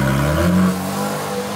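A Porsche GT3 accelerates away, its engine note loud and close at first, then sliding lower and fading as the car pulls off.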